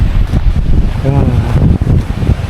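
Sea breeze blowing steadily at a summer seaside stop along a coastal walking trail, a broad continuous wind rush buffeting the microphone at close range, with a brief tonal hum in the middle.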